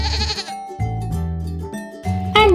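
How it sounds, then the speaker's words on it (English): Goats on a farm bleat loudly and close up, a nanny goat, pygmy goat and kids trading several wavering calls in quick succession. "A nanny goat, a pygmy goat, a goat kid and another goat kid."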